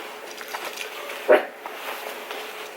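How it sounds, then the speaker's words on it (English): A single muffled dog bark rings out briefly from elsewhere in a house over a steady indoor background hum, then the room settles back to quiet. "My dog's barking, sorry."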